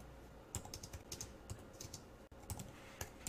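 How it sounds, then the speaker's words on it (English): Someone types on a computer keyboard while writing a JavaScript for loop, irregular clusters of light clicking keystrokes close up and fairly quiet, with no talking. "Now, as I'm typing this,"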